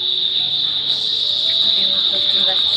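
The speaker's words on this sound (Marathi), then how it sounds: "आणि रातकिड्यांचा आवाज सुद्धा येतोय." Crickets chirp in a steady, loud, continuous high trill under a shaded roof at an eco village, with faint background sounds and no clear talk.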